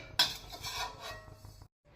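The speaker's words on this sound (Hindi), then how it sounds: "अब हम इसे दूसरे बर्तन में ट्रांसफ़र कर लेंगे।" Dry roasted cumin seeds scraped and tipped from a pan into another pot, a short burst of metallic scraping and rattling that fades to quiet.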